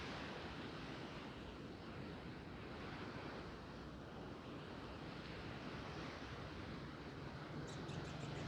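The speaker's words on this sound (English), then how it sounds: "Let the sound of the waves bring you in." Steady, continuous ocean surf washes in a broad, even roar throughout, with a faint wind-like hiss and a few soft bird chirps near the end, no voices present.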